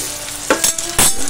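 Chopped onion, chilli and ginger fry in a pan for morning ghugni, with a close sizzle broken by two or three quick bursts of stirring.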